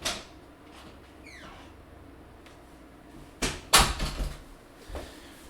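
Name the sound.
door opening and closing to let a cat out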